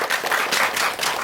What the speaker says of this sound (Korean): 다시 한번 박수로 마치겠습니다.